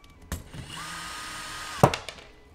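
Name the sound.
power drill tightening a screw on a goBILDA robot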